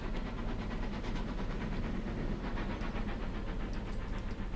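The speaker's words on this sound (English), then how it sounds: "Where is that train that's making the noise?" Train running in the rail transport video game Transport Fever, with a modded sound effect: a steady dense rolling rumble with faint rhythmic clatter throughout, no talk.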